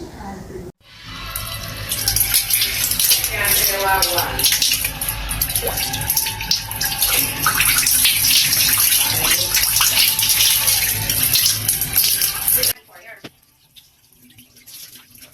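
Water runs steadily from a tap or shower as hair relaxer is rinsed out of hair, a continuous close splashing rush that lasts about twelve seconds and then cuts off abruptly, leaving near silence.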